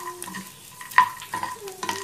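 Food frying quickly in a hot pan, with a continuous soft sizzle, a few brief utensil clinks and stirring scrapes, close and moderately quiet, no talking.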